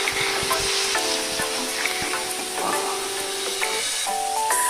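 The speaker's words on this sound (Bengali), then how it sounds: "এবার এটাকে ভালো করে নেড়ে নেব" Bay leaves and cardamom stirred in hot oil in a frying pan, with steady loud sizzling throughout and scattered scrapes and clinks of the spoon against the pan.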